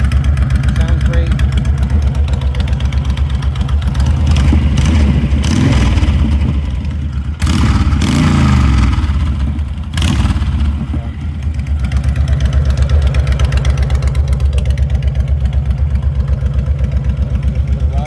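A 2013 Honda Fury VT1300 motorcycle engine runs steadily close by, a loud, continuous rumble with a couple of brief dips in level, while a voice speaks over it.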